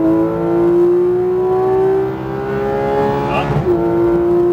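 A Porsche GT3 RS engine accelerates hard on a racetrack, its strong, steady, high-pitched whine climbing through the revs before a quick shift near the end, heard up close with no one talking.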